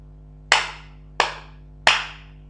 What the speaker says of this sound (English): I'm going to clap for you and I'll make different sounds by clapping